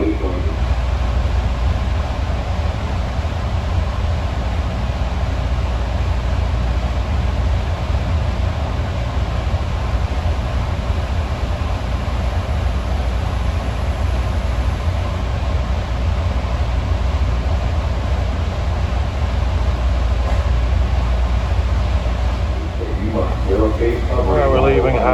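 Riding the JFK AirTrain from Howard Beach back toward Federal Circle, a constant loud rumble and hiss of the car on the track runs unbroken, with a brief faint voice-like sound near the end.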